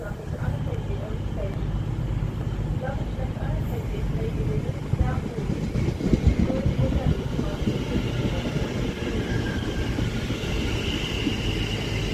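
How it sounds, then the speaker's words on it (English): A Cross Country Voyager train departing Birmingham International station on the West Coast Main Line, a steady rumbling engine and rolling wheels filling the platform for the whole stretch, with a voice talking over it. "I shall see us all when this cross-country Voyager departs"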